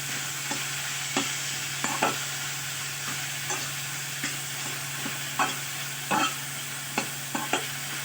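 Paneer korma spices with a little turmeric frying in a pan under a steady sizzle, with a spoon stirring in sharp, scattered scrapes over about eight seconds; close, no voices.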